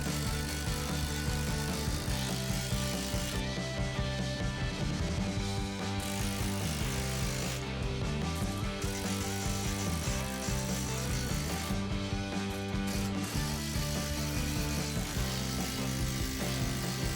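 A ratchet tightening 3/8 by 3.5-inch lag bolts into a wall while mounting mini split brackets, making a steady run of close, rapid clicking strokes with brief pauses between them.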